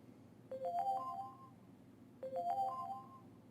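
Windows Clock app alarm notification chime plays twice, each a short rising run of bright electronic tones ringing out over about a second, separated by a quiet pause.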